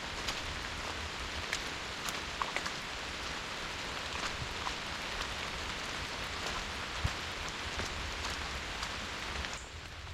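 Steady rain falls on and around a trail shelter on the Appalachian Trail in Virginia, a continuous close patter with scattered louder drops hitting the roof, no voices.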